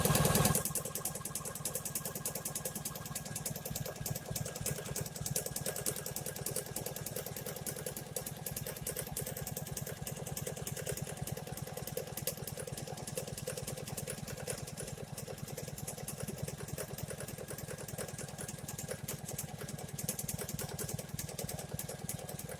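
An embroidery machine tacks the back of a vaccine card holder to the front, making a steady, fast, even mechanical stitching drone throughout that stays fairly quiet and has no talking over it.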